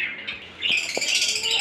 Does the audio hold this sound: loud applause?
no